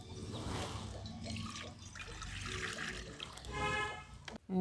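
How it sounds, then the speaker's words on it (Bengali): Water poured into a wok set on a lit stove, a steady splashing gush lasting several seconds that ends with a brief clatter. "কড়াতে দিয়ে দিচ্ছি জল।"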